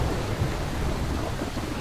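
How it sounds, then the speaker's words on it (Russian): Heavy rain pouring steadily in a video game, with a continuous loud roar and low thunder rumbling underneath throughout, no voices. "Вот начался дождь, видите? Поливает-то конкретно."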